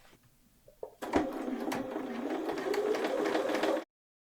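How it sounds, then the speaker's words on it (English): A sewing machine stitches a half-inch seam through bias binding, a steady whirring run of nearly three seconds that stops abruptly, preceded by a few faint handling clicks. "I'm going to sew a 1/2 inch seam allowance"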